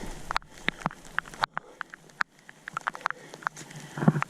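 Rain at Ruth Lake in a heavy downpour while backpacking, heard as irregular close patters and drips landing on a nearby surface, with quiet gaps between scattered taps.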